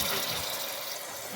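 Half a glass of water poured into a pan of potato and egg curry to make a thin gravy, a steady close-up splashing rush with no one talking.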